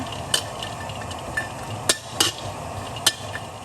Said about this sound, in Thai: จากนั้นให้นำกุ้งแห้งมาคั่วค่ะ คั่วสักห้านาทีนะคะ